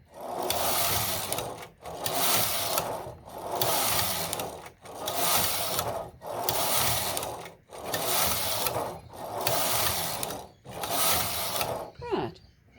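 Singer knitting machine carriage pushed back and forth across the bed, knitting rows: eight even whirring sweeps, each about a second and a half, separated by brief clicks at the turnarounds, close and steady.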